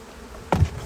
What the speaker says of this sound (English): It's a lot less bees in here than there was last week.